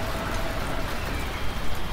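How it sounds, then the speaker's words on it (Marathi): Heavy rain pouring outside a permit office during a motorbike trip in Nepal, a steady, broad hiss of falling water that holds at constant loudness throughout, with no voices. "पाऊस खूप पडतो बघा"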